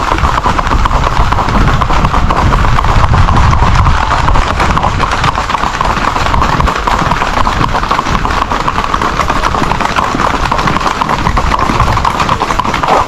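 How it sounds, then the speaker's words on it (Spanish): Horses' hooves clip-clop steadily as a group of riders passes at a festive outdoor gathering, a loud dense rhythmic clatter continuing throughout with crowd noise underneath. "Y qué mejor con la gente a caballo."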